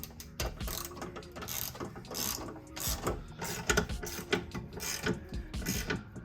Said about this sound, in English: Hold it still while they ratchet from down there.